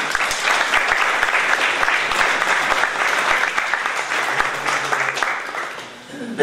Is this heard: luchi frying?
no